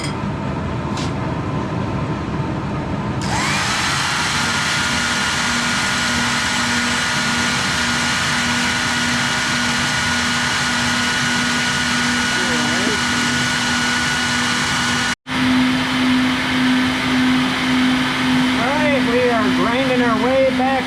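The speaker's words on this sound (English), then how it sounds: "Grinding our way back out on our final pass." A tool post grinder makes its final pass over new jaws for a Pratt Burnerd lathe chuck, a loud continuous motor whine and drone that holds steady throughout, with one brief dropout near the end.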